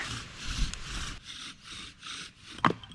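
A beginner's bow drill spins against wood with a rhythmic back-and-forth rasping, each stroke a rough grinding sweep, close and fairly loud, ending with a sharp knock.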